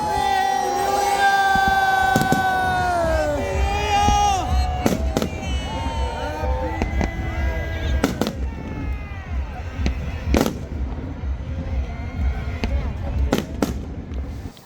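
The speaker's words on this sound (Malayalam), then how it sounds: "അത് കാരണം ന്യൂ ഇയർ ഫയർ വർക്സ് ഉണ്ടായിരുന്നു." New Year fireworks at SeaWorld Florida: a steady run of sharp bangs and crackles over a noisy, cheering crowd, with whistling rising streaks, continuing loud throughout.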